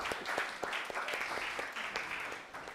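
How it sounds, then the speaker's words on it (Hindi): A church congregation in Pakistan applauds during a live sermon, giving a faint, somewhat distant round of clapping with distinct individual claps scattered through a soft wash of hands. "जोरदार तालियां"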